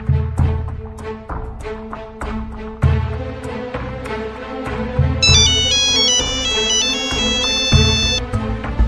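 A mobile phone plays a loud musical ringtone up close in a film scene, with steady percussive beats and a bright, high chiming melody joining partway through, heard alone without speech.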